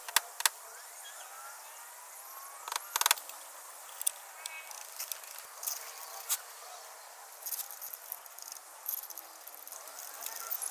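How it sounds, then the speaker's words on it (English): Bolts go loosely back into a main bearing cap on a Honda Insight engine. Faint metallic ticks and clicks are scattered over a quiet background, with a few sharper knocks near the start. "I'm just going to loosely put the bolts back in because I'm not ready to tighten this up just yet"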